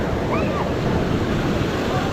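Strong ocean waves surging against a rocky shore at a beach in Real, Quezon, a loud continuous roar of surf mixed with wind buffeting the microphone, with no talking.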